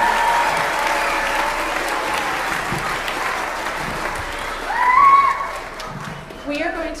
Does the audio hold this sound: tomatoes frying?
no